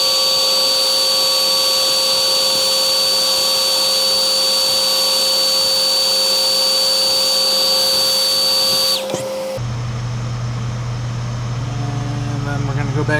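A heat gun blows steadily while heat-setting airbrushed paint on a Shiner jerkbait lure, a loud constant whirring hiss with a high whine that cuts off near the end, leaving quieter handling sounds.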